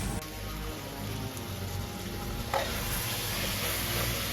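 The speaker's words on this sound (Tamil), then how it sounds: "எங்கள் அம்மா இன்றைக்கி பிரிஞ்சி செஞ்சுட்டு இருக்காங்க, வெஜிடபிள் பிரியாணி." Vegetable biryani cooking in a pan at home, a close, steady sizzle with light stirring throughout, with no talk.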